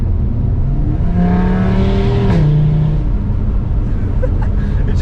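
A 2019 Audi RS3 with a full Milltek exhaust revs hard nearby, the engine note climbing and peaking mid-way before dropping back, with crackles and pops trailing off as it settles under an idle rumble.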